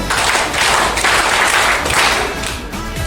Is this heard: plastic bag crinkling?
no